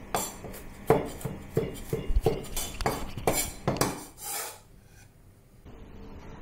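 A kitchen knife coarsely chops garlic on a board in quick, uneven bursts of crisp taps for about four seconds, then stops, leaving only quiet room noise.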